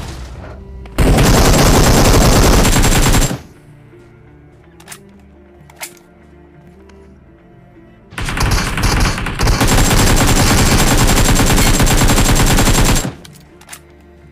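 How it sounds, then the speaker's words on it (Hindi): Gunfire in the video game BGMI: two long, loud bursts of rapid automatic fire, the first about two seconds and the second about five, separated by a quiet stretch with a few isolated single shots. "मैं जो एकदम से फायर करना चालू कर देता हूँ"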